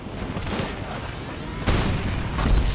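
A grenade explodes in GTA V with a sudden heavy boom about midway, following a stretch of low rumbling game noise, and a second swell of rumble comes near the end.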